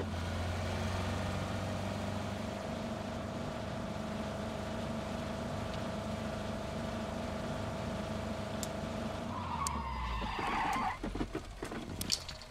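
A car in the PUBG video game engine drones steadily throughout, then near the end a burst of tire skidding and scraping as it drifts hard around corners, loud and close with no talk.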